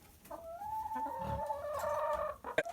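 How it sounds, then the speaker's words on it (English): Chickens cluck and murmur up close inside a chicken coop, a drawn-out warbling call followed by a few short sharp clucks. "let's head into the chicken coop"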